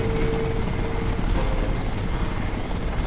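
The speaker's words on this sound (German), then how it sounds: "Da kommt wieder der scheiß Hubschrauber." A helicopter in the video game Crysis drones loudly and steadily, its rotor thrumming in a constant low roar with no pauses.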